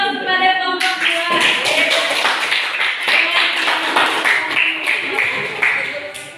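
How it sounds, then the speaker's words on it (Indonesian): A group of people applauding together for a presenting group in a classroom session, brisk dense hand clapping that runs steadily for several seconds, loud and close, while a voice speaks over it at the start. "Kita beri aplaus kepada kelompok 2."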